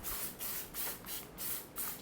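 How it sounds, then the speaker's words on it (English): Cooking oil sprayed onto paper in short bursts, about five quick hissing sprays in a steady rhythm, close and fairly soft with no one talking. "spray it with oil as well"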